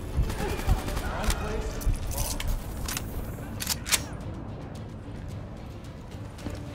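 A firefight in the PC version of Call of Duty: Black Ops 3 during the Provocation campaign mission: repeated sharp shots and short bursts crack over a dense, constant battle din, fading slightly toward the end.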